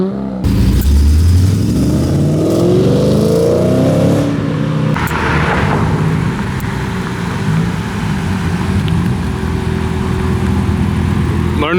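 A 750-horsepower Chevrolet Corvette C7 ZR1 revs hard at a car show, its engine climbing loudly in pitch and then settling into a sustained roar, with crowd noise behind it.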